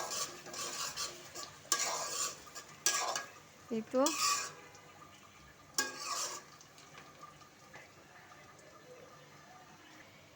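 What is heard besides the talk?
onions frying and being stirred in a pan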